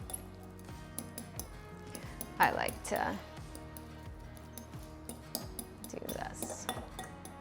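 Fork clinking and scraping against a bowl while mashing a deviled egg mixture, a few louder metallic knocks among soft scrapes, with someone talking over it.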